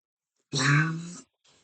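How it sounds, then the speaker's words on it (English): A single short, harsh cough or throat-clearing bursts out once, close and moderately loud, followed by a faint trailing breath. "still have a cough."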